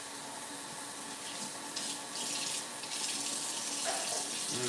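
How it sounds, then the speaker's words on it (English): Tap water runs steadily over a raw salmon fillet being rinsed in a sink, a continuous moderate splashing stream that grows slightly louder as the flesh is moved under it. "now I'm going to rinse off the meat section"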